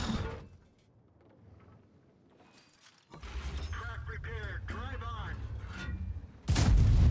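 Artillery fire in World of Tanks lands around an Object 268 v4 tank destroyer: a sudden deep boom, a long rumbling stretch with a voice talking over it, then a second loud, close blast at the end.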